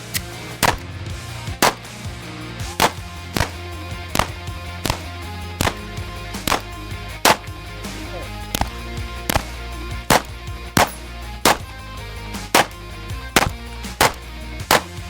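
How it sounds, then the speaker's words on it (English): Handgun shots fired one at a time at shooting practice, about fifteen sharp cracks spaced roughly a second apart in a steady rhythm, close and loud over a constant low background hum. "Nice, those are good shots."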